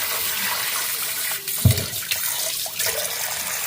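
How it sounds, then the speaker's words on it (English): Cool tap water running over soaked beans being rinsed, a steady splashing stream with a brief louder gurgle midway and small shifts in flow, no talk. "Just give it a quick rinse in cool water."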